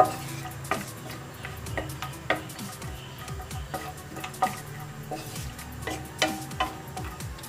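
Cashews lightly frying in hot ghee for an oats laddu, with a soft steady sizzle broken by sharp ticking clicks and scraping as they are stirred in the pan, close and moderately loud with no talking.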